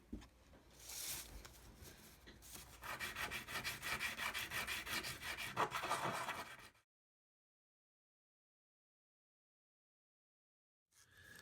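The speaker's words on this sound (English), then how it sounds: "now I'm going to go in and sand it all down" A handmade silver pendant is rubbed with 220- then 400-grit sandpaper, giving close, rhythmic scratchy strokes that build to a steady back-and-forth rasp before stopping abruptly into silence, then resuming briefly at the end.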